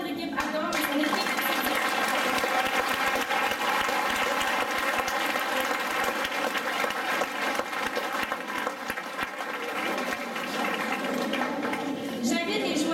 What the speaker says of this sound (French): Nous pouvons applaudir bien fort notre équipe Atome et son équipe.